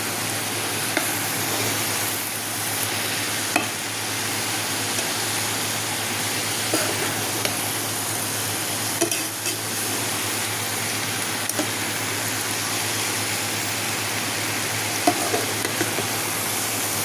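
Bottle gourd and prawns sizzle loudly and continuously in a pan, with occasional scrapes and knocks of a spatula as the mixture is stirred, close up and without talk.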